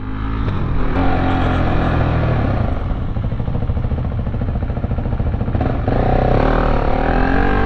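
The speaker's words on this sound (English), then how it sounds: "Just bikes everywhere." Several motorcycles riding and revving at a bike rally, the Brighton Burn Up, a loud, continuous mix of nearby engines with rising and falling revs and clattering mechanical noise throughout.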